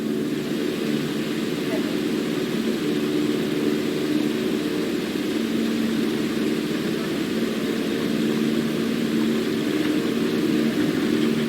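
A light aircraft engine on its takeoff roll in a flight game, a steady droning hum held at constant loudness for the whole stretch, with a voice talking over it.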